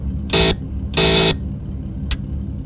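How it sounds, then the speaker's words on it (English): Two short electronic guard's buzzer buzzes sound in sequence in a BR Class 153 train simulator game, followed by a brief click, over a low rumbling engine hum. "the guard to give us the right of way, which is 2 buzzes."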